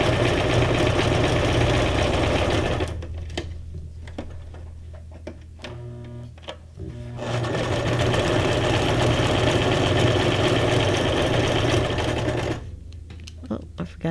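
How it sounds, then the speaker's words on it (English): A sewing machine stitches junk journal ephemera in two loud, steady bursts of whirring, separated by a pause and followed by a third, while a person talks during the gaps. "Let me sew it."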